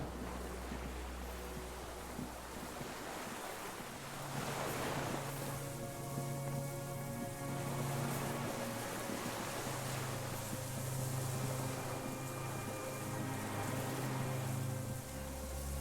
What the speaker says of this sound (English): Distant sound of cargo ships. Signal horns echo on the water.